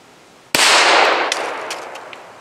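A single sharp gunshot from a .25 ACP pocket pistol, loud and close, with a long echoing decay tailing off behind it.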